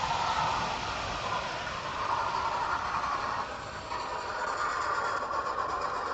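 A model Flying Scotsman locomotive runs fast on a loft layout, giving a continuous close rolling rumble and hiss of wheels on track at steady loudness throughout.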